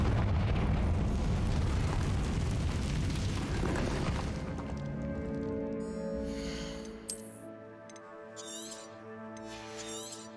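A Confringo fire spell explodes in Hogwarts Legacy with a loud, rumbling boom that slowly fades into a ringing tail, followed by a few light magical chimes and sparkles.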